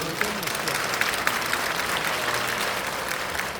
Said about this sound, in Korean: 자, 박수로 좀 맞아주시겠어요?